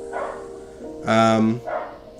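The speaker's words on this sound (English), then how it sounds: "Oh, my dog's barking." A dog barks once, loud and close, between faint surrounding sounds; a person is talking nearby.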